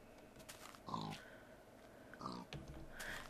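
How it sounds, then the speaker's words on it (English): A Minecraft pig oinks two or three times in short grunting bursts, close but quiet, over a faint background with little else going on. "Pig, pig."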